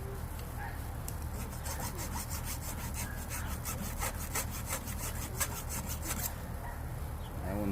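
Hand file rasping across chainsaw chain teeth to sharpen them, an Oregon chain sharpening job: steady repeated scraping strokes in a close, even rhythm, continuous and fairly loud with no talking.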